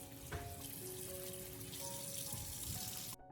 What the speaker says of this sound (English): wash them thoroughly under running water to remove any dirt and impurities